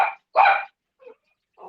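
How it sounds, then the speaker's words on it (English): Loose dogs bark outdoors in two loud, close barks followed by fainter, more distant barks, with brief silences between them. "There's all the dogs loose."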